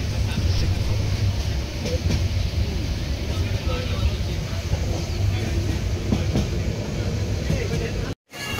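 Train bound for Cox's Bazar rumbling steadily from inside a carriage, a loud continuous roar with faint clatter throughout, cut off briefly near the end, with muffled voices in the background.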